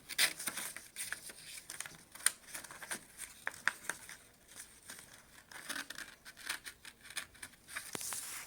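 Paper is cut with scissors to make a pinwheel, a quiet close series of crisp snips and crinkles in an uneven rhythm, with no talking.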